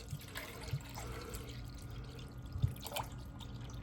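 Water being poured into a 1 liter JetBoil stove pot, giving soft close trickling and dripping with a few light splashes, fairly quiet and with no talk.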